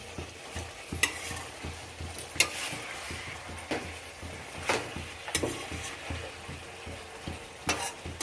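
Food frying in a pan during a midday meal prep, stirred with repeated scraping strokes over a steady sizzle, with occasional sharper clinks of a utensil against the pan.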